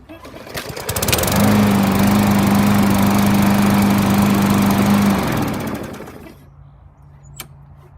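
A Bolens 21-inch 140cc push lawn mower with a freshly cleaned carburetor starts up, roars steadily and close for several seconds, then winds down to quiet.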